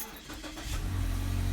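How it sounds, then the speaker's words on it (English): A Mazda 6 GL engine cranks briefly and catches, settling into a steady, close idle rumble inside the car. "Car starts up."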